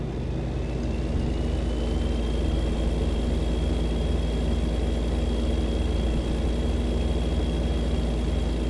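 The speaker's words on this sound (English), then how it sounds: "I'm really digging those engine sounds, though." A truck engine in the driving game American Truck Simulator drones steadily and evenly throughout, a loud, unbroken low rumble with a faint rising whine above it and no talking.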